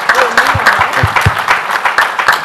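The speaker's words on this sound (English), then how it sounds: "Big round of applause." An audience at an innovation and industry event claps loudly for entrepreneurs in a short, lively burst, with individual sharp claps standing out near the front.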